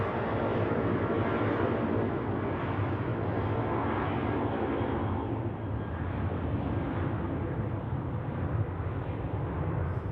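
A Eurowings airliner departs Zurich Airport in crosswinds, its engines giving a continuous distant rumbling roar that holds steady throughout.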